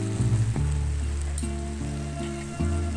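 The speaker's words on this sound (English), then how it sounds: "try a famous sizzling Sicilian steak" A Sicilian steak sizzles steadily on a hot surface, with a loud continuous crackle and hiss over a background of steady tonal hum and a few faint clinks.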